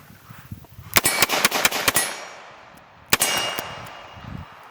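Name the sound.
Colt Python revolver shots fired double action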